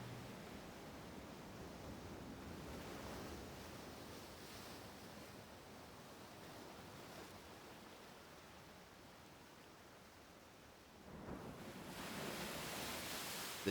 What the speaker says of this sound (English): listening to the crude sound of waves hitting the wharf